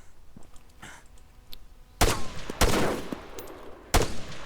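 Gunfire in the military shooter ARMA 3: three loud, sharp shots ring out about two seconds in, with fainter distant pops and quiet rustling before them, no talking.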